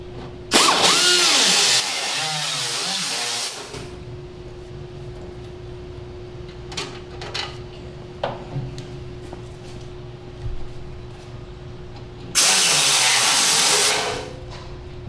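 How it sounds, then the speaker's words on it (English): A small grinder enlarging bolt holes in a car hood valance whines loudly in a burst of a few seconds, followed by quiet clinks and handling, then a second loud grinding burst near the end. "take a little grinder and stick it through there and grind the holes a little bit bigger so I can get the bolt through"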